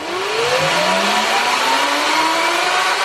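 An electric vehicle motor run up to higher RPM gives a loud, steady whine that rises smoothly in pitch over a few seconds, with no talk.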